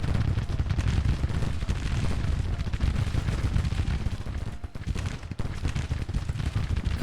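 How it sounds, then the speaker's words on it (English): Artillery battery firing in Grand Tactician: The Civil War, a steady rumble of booming cannon fire with overlapping blasts that hardly let up, heavy in the low end and sustained across the whole stretch. "Okay, that battery is firing."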